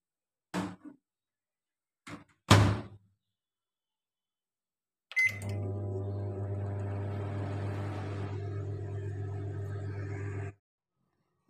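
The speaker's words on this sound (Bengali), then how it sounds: "এটা আমি আবার মাইক্রো ওভেনে 2 মিনিটের জন্য দিয়ে দেব।" Microwave oven running while cauliflower roast cooks, a few clicks and beeps first, then a steady close humming drone with a low buzz for about five seconds before stopping.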